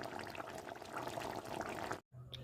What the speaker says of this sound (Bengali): এবার আমি কড়াই থেকে একটা পাত্রে ঢেলে নিয়েছি